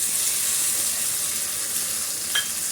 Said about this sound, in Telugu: ఇప్పుడు తరిగి పెట్టుకున్న టమోటాలు వేసుకుందాం